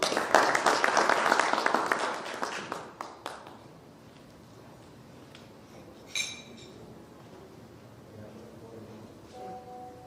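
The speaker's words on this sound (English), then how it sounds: "A round of applause for Leonida as she comes on stage." Audience applause at a Kenyan AI discussion event as a speaker walks on stage: a burst of clapping that fades after about three seconds, then a quiet room with a brief clink and faint murmurs.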